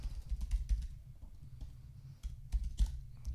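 Keys clatter on a computer keyboard as an email address is typed, with rapid close taps in short irregular runs over a low background rumble.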